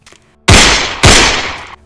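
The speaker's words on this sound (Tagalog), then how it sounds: "dahil sa sunod-sunod na putok ng baril sa isang inuman sa loob mismo ng nasabing compound" Gunfire at a drinking session inside a residential compound in Isabela, two sharp, very loud bursts in quick succession, each decaying briefly, after near silence.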